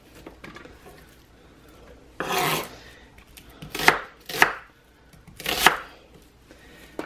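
A knife chops vegetables into big pieces on a board while an Italian roast dinner is prepared: three or four loud, separate crunching strokes spaced about a second apart, with quiet kitchen background between them.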